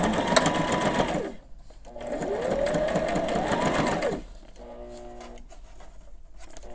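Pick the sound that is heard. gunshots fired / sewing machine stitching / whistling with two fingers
sewing machine stitching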